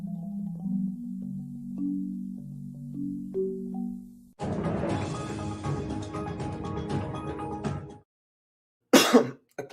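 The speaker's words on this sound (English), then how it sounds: "I'm sorry about that coughing there" Repeated coughing and throat clearing in a quiet room, loud and close, with a few harsh bursts separated by brief gaps, following a soft tonal hum.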